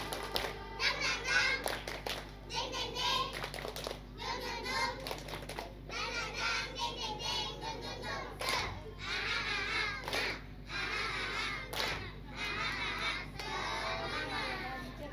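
A classroom of children at a school report-card day performs the 'tepuk semangat' spirit clap, a patterned run of rhythmic group hand claps with chanting voices, loud and busy throughout, with a teacher's voice now and then.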